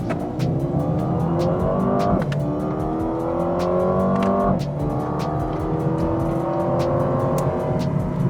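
A loud Mercedes-AMG A35 engine revs hard on a racetrack and climbs in pitch, dropping sharply at two quick gear changes before climbing again.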